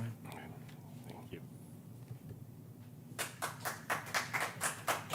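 Audience applause at a Johnson City Board of Commissioners meeting, starting after a quiet stretch of room noise and low murmur, then a burst of rhythmic clapping that builds over the last two seconds.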